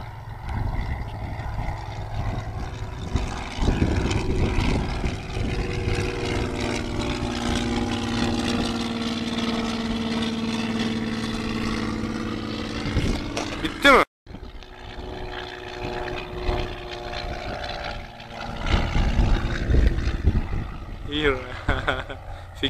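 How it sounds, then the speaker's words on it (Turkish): Piper Brave 400 propeller airplane flying past, a sustained droning engine with a shifting pitch as it passes, fading briefly then returning, heard outdoors at moderate distance with people talking nearby. "Bu uçak ha, aynı uçak."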